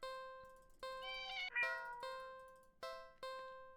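A cartoonish cat meows repeatedly inside a video game, each short tonal call rising and falling over a soft chiming musical backdrop, with no talking.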